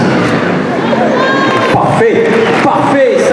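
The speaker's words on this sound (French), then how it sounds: "ça mérite vos applaudissements bien sûr" A packed arena crowd at an X-Trial world championship motorcycle trials event roars with cheering, shouts and applause, a loud continuous din of many voices mixed with whistles and clapping.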